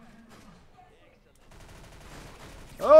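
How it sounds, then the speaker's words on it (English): Minigun fire in the Roblox game Arsenal comes as a rapid burst of shots that builds from faint rattling into a loud, dense stream at the end, with a voice talking over it. "Even though it's like it's a minigun, it's hard to shoot it."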